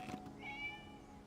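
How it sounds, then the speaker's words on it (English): A cat in a video game gives one short, clear meow that rises and then fades, close and alone over a faint background hum. "It was just a cat."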